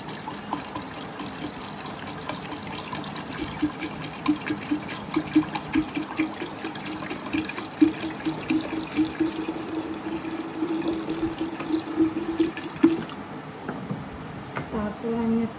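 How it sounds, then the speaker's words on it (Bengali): About a litre of water pours steadily into a container for a mango-preserving preparation, a continuous splashing trickle that runs the whole time at moderate loudness, with a voice talking over it. "প্রথমে জল দিয়ে নেব"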